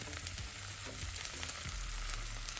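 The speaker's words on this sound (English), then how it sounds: "some green onions, and we're gonna saute this baby" Ginger and green onions sautéing in grapeseed oil in a pan, a quiet, continuous sizzle with occasional soft stirring ticks, with no voices.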